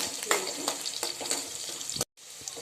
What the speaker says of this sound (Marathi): आपली मिरची आणि लसूण छान परतले गेलं आहे